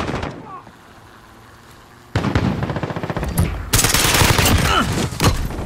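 Cruise missile strikes explode across the map in Call of Duty Modern Warfare, a sudden loud burst followed by a second heavier wave of crackling blasts and rattling gunfire, with voices mixed in.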